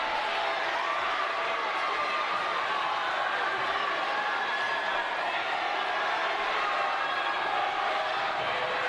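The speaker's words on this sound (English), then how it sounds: "And now Denton fans are screaming and cheering about something." High school playoff basketball crowd in Denton, fans screaming and cheering in a steady, loud roar that fills the gym without a break.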